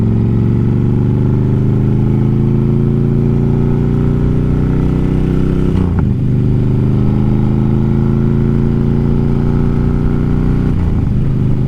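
Honda motorcycle engine while riding, a loud, steady droning hum that rises gradually in pitch as it accelerates, with two brief dips around gear shifts, close and continuous without talk.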